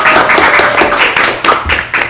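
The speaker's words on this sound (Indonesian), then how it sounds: "Kasih dong tepuk tangan buat Tangan dulu dong." A small group claps for a few seconds on an Indonesian talk show, the claps loose and overlapping, with a faint voice underneath.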